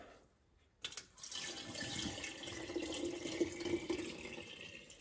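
Water runs steadily from a tap into a Pyrex jug for several seconds after a short quiet start, close and fairly soft, with a hollow splashing rush and no talk.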